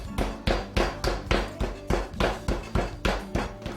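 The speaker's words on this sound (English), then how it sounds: "I'm going to use the flat side of my mallet to flatten them out" Chicken fillets are pounded thin with the flat side of a meat mallet, a steady run of about eleven heavy, even thuds on a board, close and loud, with no talking.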